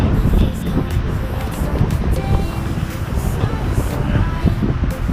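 Strong, cold wind blows outdoors and buffets the microphone with continuous rumbling gusts. A faint murmur of distant activity sits underneath.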